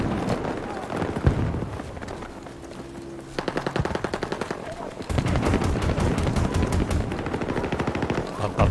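Rapid automatic gunfire in Battlefield 2042 rattles in dense bursts, with a pause and then a longer sustained stream of shots, loud and close, while someone talks over it.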